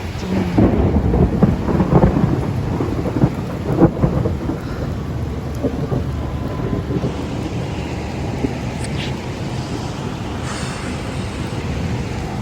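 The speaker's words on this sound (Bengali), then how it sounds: "আমি তো বৃষ্টিতে ভিজতাছি বলা যায়" Heavy monsoon rain pours steadily while thunder rumbles loudly in the first few seconds, then the downpour continues alone as a dense, close hiss with no talking.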